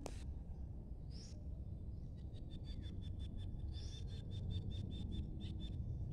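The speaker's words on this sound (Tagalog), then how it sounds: "mga huni ng ibon na lang maririnig natin dito" Birds call in a farm field after rain, a faint, distant series of repeated high chirps and short whistled notes over a low rural background hum, with no talking.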